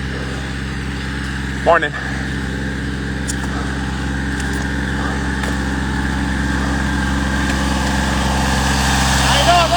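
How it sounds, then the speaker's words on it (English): A trimming machine, likely a string trimmer, runs steadily nearby outdoors in South Carolina as a constant engine drone under brief conversation, with a short burst of louder noise early on. "There's a guy doing trimming work."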